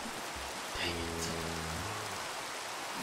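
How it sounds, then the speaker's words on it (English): Steady rain hisses evenly in Minecraft with the SevTech Ages modpack, a soft, even wash heard alone, with a low tonal hum briefly rising beneath it. "And it's raining out."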